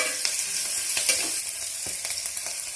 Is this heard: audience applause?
no